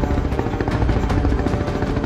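A helicopter flies overhead before a crash landing in a field, its steady rotor chop loud and continuous, with a rhythmic pulsing beat and turbine whine throughout.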